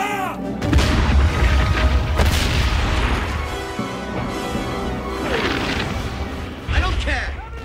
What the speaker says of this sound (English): Give the artillery the order to open fire.